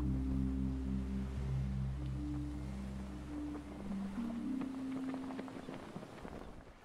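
Raft drifting across open ocean in the survival game Stranded Deep, a steady low wash of water and wind under a sustained humming tone, with soft splashes toward the end.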